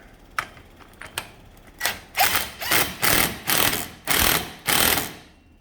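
A ratchet with a 30mm socket tightens a castle nut on a Can-Am X3 Turbo RR wheel bearing, starting with a few short clicks and then settling into a run of longer, loud rasping ratchet strokes, close up with no talking.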